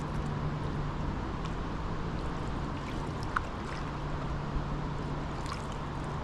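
Freeway traffic rushing in the background beside water where a solo canoe is paddled: a steady, broad hiss and rumble with a few faint splashes and knocks.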